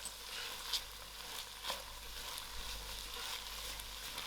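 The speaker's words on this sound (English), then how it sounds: "My lentils has came to a fry." Steady low sizzling of lentils (masoor dhal) frying in a pan, a soft continuous crackle with a couple of brief louder pops, no voices.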